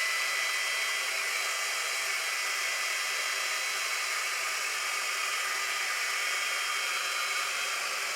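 A GHD Duet Style hot air straightener runs steadily at its single air and heat level while styling thick curly hair, giving a loud, continuous whooshing hiss with no speech over it.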